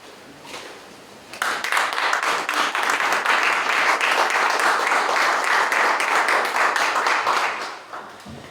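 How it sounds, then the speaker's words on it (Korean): Audience applause at a church pastors' forum in Korea: a quiet murmur, then clapping abruptly bursts in and holds loud and dense for about six seconds before tapering off. "박수로 이렇게 많이 해주시면 되겠습니다"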